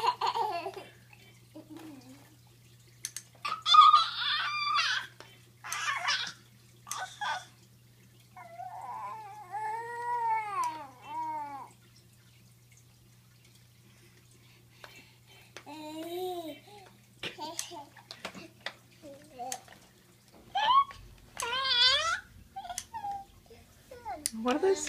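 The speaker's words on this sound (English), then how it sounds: "What are those funny squeaky noises you're making?" A baby makes a series of high, squeaky, warbling vocal noises in short bursts separated by pauses, fairly close, with a low steady hum underneath.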